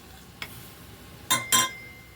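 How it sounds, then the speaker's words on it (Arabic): A spoon clinks and scrapes against a pot a few times in quick succession while stirring chili paste with baking soda and salt, close by, over a faint steady background hiss. "ونحطها كده ونقلب."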